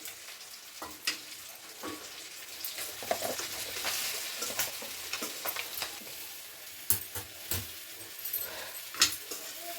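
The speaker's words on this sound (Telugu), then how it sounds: "ఇప్పుడైతే మంచిగా కలిపేయాలి కొంచెం మంచి కలపాలి" Chicken fries quietly in a pan while masala is stirred in, a soft sizzle under intermittent scraping and clicking spatula strokes, close and fairly faint.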